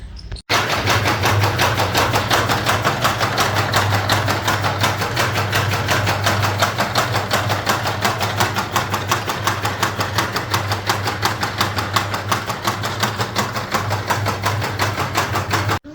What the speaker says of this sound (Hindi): अब अबू जान बिस्मिल्लाह पढ़कर इस घास को टोका मशीन की मदद से काटेंगे